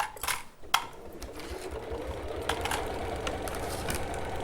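A sewing machine stitches through layers of quilt fabric and backing, a close steady mechanical whir with a rapid rhythmic needle chatter that starts after a couple of short clicks and runs on without pause.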